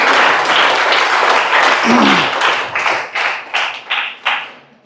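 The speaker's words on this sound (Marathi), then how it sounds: "टाळ्या वाजवल्या तरी चालतील तुमच्या शिक्षकांसाठी" Students at a high school lecture clap for their teachers in a dense burst of applause that thins into scattered, separate claps as it fades out.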